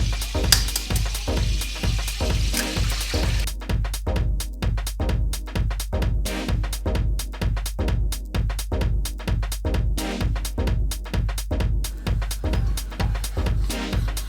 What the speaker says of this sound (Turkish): Şimdi yumurtalarımı kırıyorum içine.